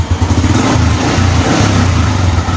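A motorcycle engine kicked over once and catching straight away, running loud and close with a steady, lumpy idle throughout.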